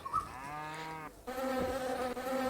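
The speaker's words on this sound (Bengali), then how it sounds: "মৌমাছি চলে এসেছে।" A buzzing insect sound from the Meena 2 video game, a bee drone with steady tonal harmonics that breaks briefly then resumes louder and closer, no talking.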